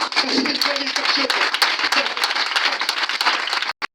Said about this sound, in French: Acclamez la voix du Seigneur.